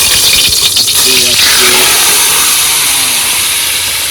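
Marinated fish head dropped into hot mustard oil in a wok aboard a boat, a loud close roaring sizzle with bursts of spitting at the start, voices faintly audible underneath.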